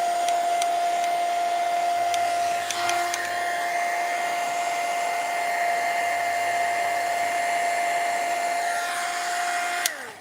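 A heat tool whirs steadily at close range, drying metallic paint on a CD ornament, and its constant blowing hum holds for about ten seconds before cutting off at the end.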